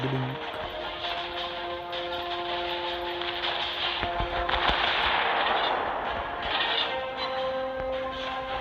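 Naval guns on a warship fire at an enemy in a video game, a dense, loud, continuous barrage of booming shots and rumbling blasts layered over a steady mechanical drone, with no pauses.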